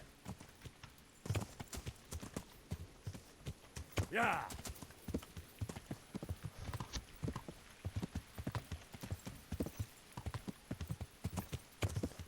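Horse hooves clip-clop in a steady rhythm through Kingdom Come Deliverance, close and clear, with a brief neigh partway through and someone talking over the hoofbeats.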